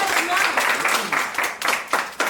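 Small group clapping at a live-stream gathering in Perpignan, a short burst of scattered claps heard under someone talking.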